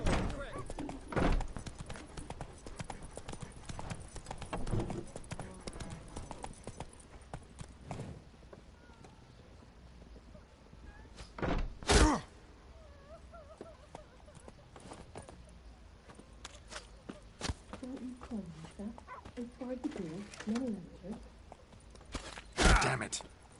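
Roach the horse trotting in The Witcher 3, steady clip-clop hoofbeats under someone talking, with a few louder thumps and bursts scattered through.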